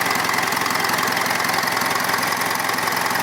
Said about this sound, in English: But that's idling on its own now.